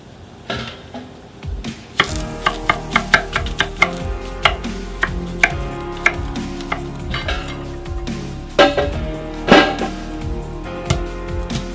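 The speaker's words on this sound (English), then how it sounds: "Let's get started chopping up the vegetables." A knife chops on a cutting board in quick, uneven series of taps, with occasional louder knocks, close and clear.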